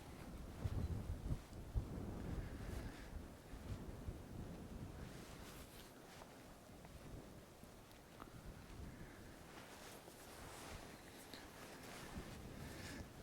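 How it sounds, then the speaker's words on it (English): Wind gusting outdoors at night, a steady broad rushing roar that buffets the microphone, heavier at the start and easing slightly toward the end, with no talk. "The wind's got a bit better."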